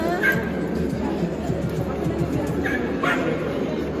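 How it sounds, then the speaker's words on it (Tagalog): Dogs yip and bark a few times in the background at a dog pageant in Mexico while people talk nearby, short sharp calls scattered over steady chatter. "Yan, lalaki ng mga aso."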